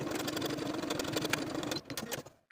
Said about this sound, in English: Sew with a 3/8 inch seam allowance and press your seams open.